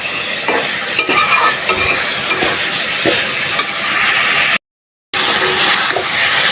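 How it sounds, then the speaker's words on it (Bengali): Fresh pond fish sautéing with spices in a hot pan, a loud continuous sizzle with scraping stirs from a utensil, briefly cut to silence before resuming. "মাছগুলো ভালোভাবে মশলার সাথে কষায় নিচে"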